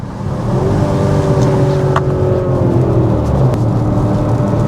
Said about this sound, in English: that sound of that 4-liter is just so aggressive